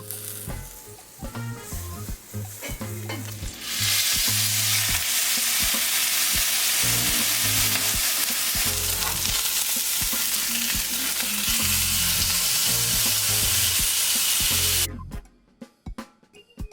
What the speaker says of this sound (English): very quickly gonna add a little bit of butter and then sear off my ribeye steaks on either side just for 30 seconds at most